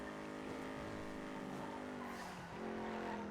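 A car in the GTA video game braking hard and skidding, engine drone giving way to a sustained tire squeal that drops in pitch, loud and close, with no voices.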